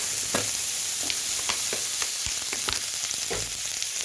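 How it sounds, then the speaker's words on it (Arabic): Sliced lamb liver and lamb fat frying together in oil, a constant close sizzle with sharp spitting pops and occasional utensil knocks, no talking. "حطيت دلوقتي الزيت والليه ومعايا ايه كبده شرايح"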